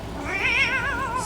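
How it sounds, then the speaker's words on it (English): A cat in a spooky video game gives one drawn-out, wavering meow, loud and close with no talking. "Spooky kitty."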